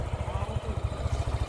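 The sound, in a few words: sports bike engine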